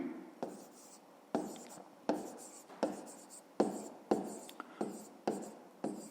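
A pen writes on paper during a 5th-grade maths exercise, in repeated short strokes and scratches, a burst every second or so, close and fairly quiet.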